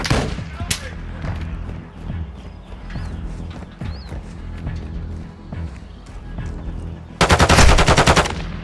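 Gunfire in the video game Call of Duty: Modern Warfare II: scattered sharp shots and game noise, then a loud, rapid automatic burst near the end.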